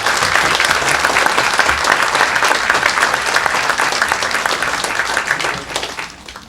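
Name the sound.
audience applause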